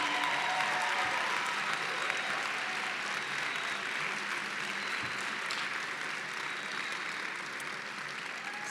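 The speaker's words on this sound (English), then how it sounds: "If everyone could give them a round of applause," Steady audience applause at a Commonwealth Dinner honoring youth and families from Hanover County, a dense wash of many hands clapping from moderate distance, continuous and even throughout with no talk over it.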